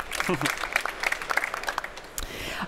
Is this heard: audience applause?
yes